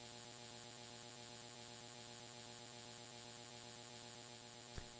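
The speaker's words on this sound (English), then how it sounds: "You can hear the machines going." Steady electrical hum of GregTech machines running in a Minecraft modpack, a constant low drone with no voices and one brief sharp click near the end.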